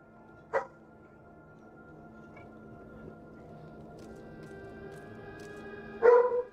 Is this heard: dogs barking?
yes